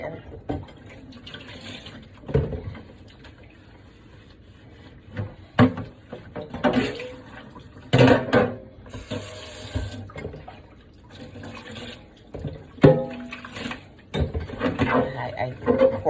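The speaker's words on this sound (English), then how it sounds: "So now I'm just gonna wash this tray off for the" Water splashes and runs from a tap while an air fryer tray is rinsed and scrubbed, with intermittent clatter and knocks at the sink.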